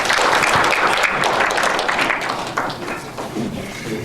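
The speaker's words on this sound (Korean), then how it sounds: "큰 박수로 환영해 주시기 바랍니다" An audience at a theology lecture gives a short burst of welcoming applause for a speaker, loud at first and then thinning out over a few seconds.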